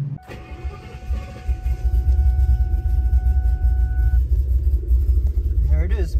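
A 2003 Cobra mod motor engine with a cam fault idles rough, giving a loud, steady low rumble close by for the whole stretch.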